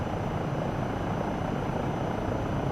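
A powerful helicopter flying in Microsoft Flight Simulator 2024, its engine and rotor making a dense, steady roar that stays even and loud throughout, with no voices over it.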